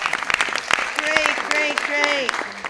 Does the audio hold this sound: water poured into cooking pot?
no